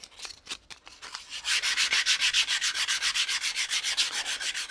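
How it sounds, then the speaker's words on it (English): Wood is sanded by hand with 320 grit sandpaper backed by a thumb, a few short scrapes followed by a steady series of fast, close back-and-forth rubbing strokes. "Now I've got my thumb backing up the sandpaper."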